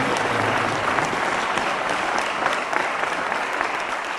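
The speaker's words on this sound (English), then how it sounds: "I want you to give them a round of applause." College audience at a state-of-the-college address breaks into steady, dense applause, a full room clapping evenly at moderate loudness for several seconds without a break.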